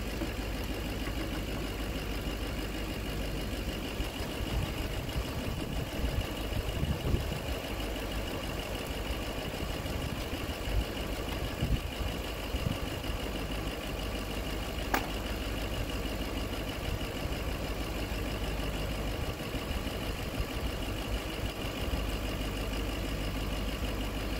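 A 40-year-old John Deere garden tractor engine idles steadily for a long stretch, a continuous mid-pitched mechanical hum with light knocking and no talk over it.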